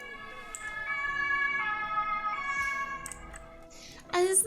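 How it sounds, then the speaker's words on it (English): An ambulance siren sounds outside on a rainy day, a steady multi-tone wail held at moderate distance over faint background noise, with a brief louder noise burst at the end. "Is that another ambulance?"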